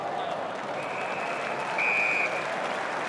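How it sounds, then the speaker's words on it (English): Crowd applause sweeps through the stands at an AFL football match between Carlton and Fremantle, a steady, dense wash of clapping from a large crowd that swells briefly near the middle, with faint commentary voices beneath. "Griffin Logue gets a round of applause"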